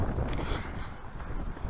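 Strong wind gusting by a river, a steady broadband rushing roar with low rumbling buffets against the microphone, continuous and close.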